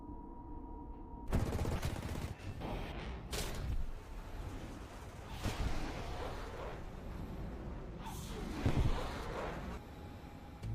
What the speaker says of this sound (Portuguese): conseguiu mirar e acertar o Mirage com seus canhões